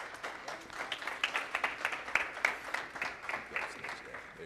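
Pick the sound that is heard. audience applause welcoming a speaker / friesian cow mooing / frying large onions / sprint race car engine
audience applause welcoming a speaker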